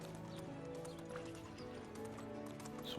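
Horses in the medieval farming game Medieval Dynasty, with steady clip-clop hoof steps and an occasional whinny over a dense ambient background; no one talks.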